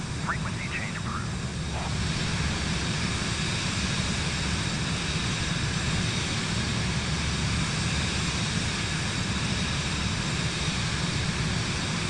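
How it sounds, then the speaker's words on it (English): A jet engine on an aircraft in Microsoft Flight Simulator 2024 roars as a loud, steady broadband whoosh and hum that runs unbroken, with a brief voice heard near the start. "This sounds more like a jet engine."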